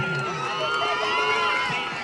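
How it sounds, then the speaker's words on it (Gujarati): Lively crowd noise at a children's dance performance in a cultural program, steady and loud throughout with cheering and shouting voices layered over the dense din, though clapping itself is not distinct. "જોરદાર તાળીઓ થઈ જાય ફરી એમને."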